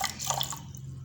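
Water splashes and trickles onto sugar in a bowl for sugar syrup, a close, steady liquid pour lasting about a second with no talking.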